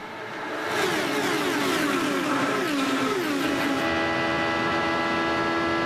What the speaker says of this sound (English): 8 cars running within a second of each other